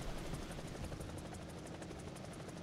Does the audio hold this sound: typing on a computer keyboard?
no